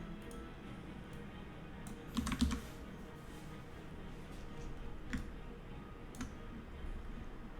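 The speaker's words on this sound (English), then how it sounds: "He's at this new mechanical keyboard, and it's always a very tick." Quick clicking keystrokes on a new mechanical keyboard tap along in the background, faint and irregular, with a short dense burst of clacks partway through.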